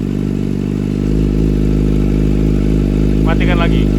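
Kawasaki ZX25R motorcycle idling with its exhaust baffle valve opened, a loud, steady low rumble with a fast, even pulse, close by, as a voice talks briefly over it.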